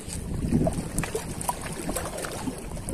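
Wind gusts over open water around a small boat while fishing for mullet, a steady, fairly loud rushing noise with buffeting on the microphone and no talk.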